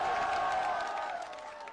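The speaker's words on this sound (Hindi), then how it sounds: "एक बार जोरदार ताली बजाकर अपना आशीर्वाद दीजिए" A crowd at a political rally claps and cheers in a broad wash of applause that stays loud and then tapers off within two seconds.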